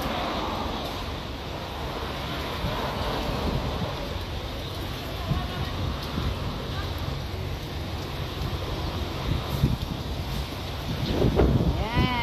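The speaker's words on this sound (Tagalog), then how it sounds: "So medyo mainit ngayon pero mahangin naman." Steady wind buffets the microphone outdoors on a seaside promenade at Belcher Bay, a continuous rushing roar with gusts and faint voices underneath.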